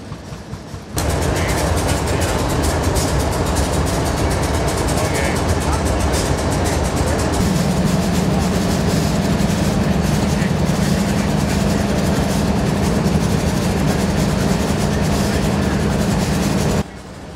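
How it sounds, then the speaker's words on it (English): A string of railroad locomotives idles at a rail yard during a railroad days tour, with a dense, steady diesel rumble that fills the scene and a low engine tone that grows stronger partway through. "Locomotives as far as the eye can see."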